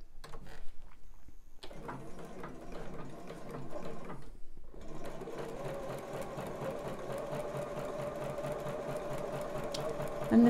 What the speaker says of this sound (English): I'm going to now stitch around the quarter inch seam allowance in the cup bowls